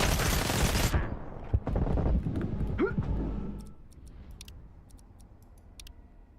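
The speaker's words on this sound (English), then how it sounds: "Shoot at him!" Gunfire in the video game S.T.A.L.K.E.R. 2, a loud burst of shots for the first second followed by a few scattered sharp reports and faint ticking as the din fades.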